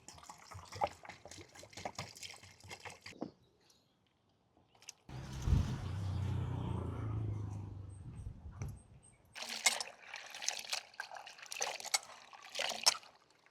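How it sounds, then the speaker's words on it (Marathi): Water pours and splashes steadily for a few seconds, close by, between stretches of clattering and handling noises. "पाणी टाकतो याच्या धुयासाठी."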